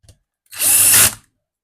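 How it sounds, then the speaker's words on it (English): Power screwdriver driving screws into the housing of a GPZ-7000 metal detector: one short whirring burst of about half a second, close and fairly loud, preceded by a faint click. "It actually gets to you after a while if you keep screwing things in with a screwdriver"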